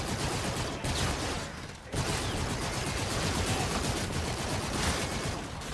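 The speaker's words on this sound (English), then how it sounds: "Let's get the raw rifle. And let's do some more firing." Dense, continuous rifle fire in the shooter game Call of Duty: Infinite Warfare, loud rapid bursts packed tightly together with only a brief dip before the firing carries on steadily to the end.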